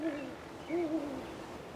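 A great grey owl gives two soft, deep hoots, one at the start and another a moment later, fairly close against quiet forest background.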